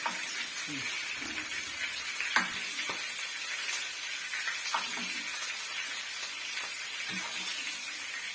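Potatoes and chicken fry in hot oil, a continuous crackling sizzle with occasional pops and faint stirring sounds, with a little background talk now and then.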